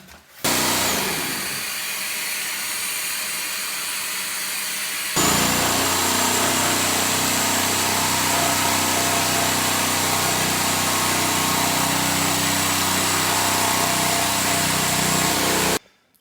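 An electric jigsaw cuts a kitchen countertop for a hob opening, with a vacuum attached, a continuous close whining buzz that rises louder midway and runs steadily until it stops abruptly.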